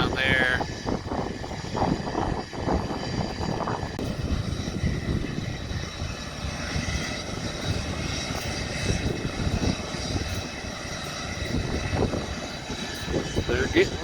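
Engines of a DC-10 air tanker at a wildfire air tanker base drone loud and steady throughout, a continuous roar with a whining tone on top, while voices are faintly mixed in.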